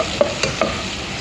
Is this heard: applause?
no